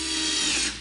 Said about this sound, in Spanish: voy a coger el atornillador